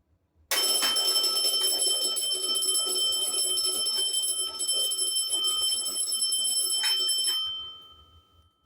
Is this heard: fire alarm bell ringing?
yes